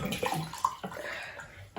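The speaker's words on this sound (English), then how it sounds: "Pour some water." Water poured into a container during a simple density science experiment at home, a close, splashing trickle with a few gurgling bursts that runs steadily for about two seconds.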